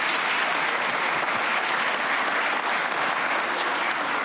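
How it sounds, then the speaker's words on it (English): Audience applause for a panel at a NATO and transatlantic security event: dense, steady clapping from a large crowd, loud and close, sustained throughout without any talk. "Let's give a round of applause to a great panel."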